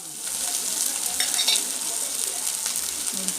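Ginger garlic paste sputtering in hot oil with fennel seeds, a loud, dense sizzle that stays close and even, with a brief spatter burst midway and no talking.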